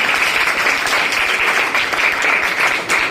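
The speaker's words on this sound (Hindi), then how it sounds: "एक बार जोरदार तालियां आप लोग अपने लिए बजाइए" Audience applause fills a hall at an Entrepreneurship Day event at an institute, loud and continuous throughout, a dense wash of many hands clapping with no voices breaking through.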